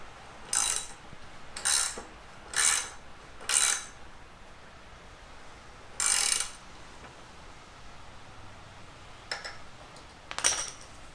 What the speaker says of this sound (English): Make sure you have the wrenches set to the right direction